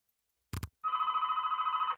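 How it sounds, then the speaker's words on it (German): A telephone rings inside a video game: a short double knock-like burst, then one sustained bright trilling ring of about a second, loud and alone. "Telefon."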